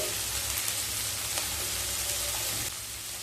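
Vegetables with green chilli and peas stir-frying over high heat for Hakka noodles, giving a steady, dense sizzle with faint stirring scrapes throughout and no voices.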